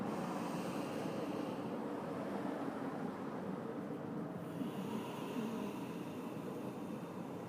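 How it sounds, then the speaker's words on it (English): Slow, soft ujjayi throat breathing during a beginner yoga flow, a steady airy rushing like ocean surf that swells and eases, faint and close with no talk. "Just start to hug the muscles in the back of your throat, making a sound like the ocean for our ujayi breathing."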